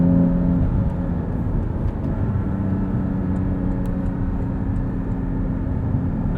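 A 2020 Porsche 718 Cayman GT4 with a six-speed manual gearbox drives in fifth gear, its engine a steady, loud, droning hum with constant road and wind rumble and no talking.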